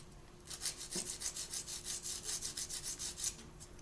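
A nail file rasps back and forth across a small plastic model building part in quick, even strokes, about a dozen close rubbing scrapes in a steady rhythm with no talking.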